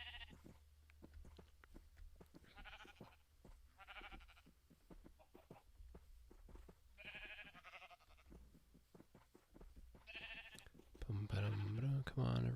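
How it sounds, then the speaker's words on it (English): Sheep in the video game Minecraft bleat again and again in short wavering calls, fairly faint and evenly spaced, over a steady crackle of game sounds, with a burst of louder noise near the end. "like sheep running away"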